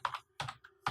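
Keys clack on a computer keyboard as a web domain name is typed, three quick close bursts of keystrokes in a quiet room with no talking.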